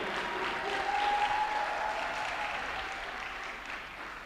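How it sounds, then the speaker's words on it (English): Graduation ceremony audience applauding steadily, a broad, moderately distant wash of clapping that slowly fades, with a faint voice briefly audible over it. "Keep the applause going"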